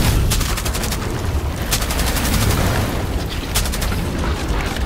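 Gunfire aimed at anchor points in the video game Rainbow Six Extraction, with repeated sharp bursts of rapid shots over a loud, rumbling combat background.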